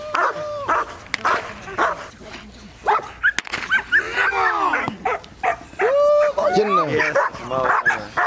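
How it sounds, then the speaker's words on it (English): Tracker dogs bark, yip and whimper excitedly while searching for contraband, close and loud in rapid bursts with people talking over them. "they're going to let the dogs loose and see if they can find it"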